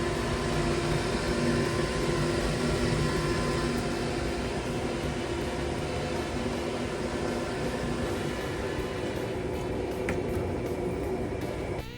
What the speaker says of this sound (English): Now the fan I'm using is a DC brushless motor fan